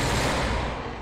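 Gunfire from a gun in a video game, a loud, dense burst of blasts packed together over about a second, close and harsh, then trailing off slightly.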